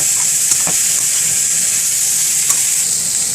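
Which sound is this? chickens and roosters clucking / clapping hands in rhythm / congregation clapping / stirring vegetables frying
stirring vegetables frying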